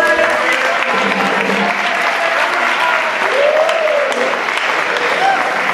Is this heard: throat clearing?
no